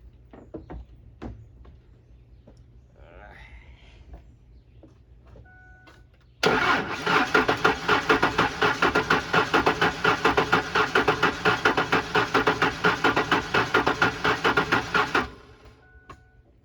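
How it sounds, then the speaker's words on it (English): A car engine cranks and turns over in one long, continuous burst, a rapid, rhythmic churning starter sound that never catches, after some quiet clicks and handling noises. "Now it will turn over. Let's give her some power."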